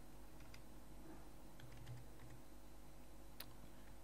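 Faint, light typing on a computer keyboard, a soft scatter of key taps over a low background hum, with no one talking.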